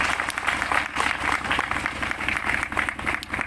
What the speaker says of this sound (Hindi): आप लोग एक बार जोरदार तालियां।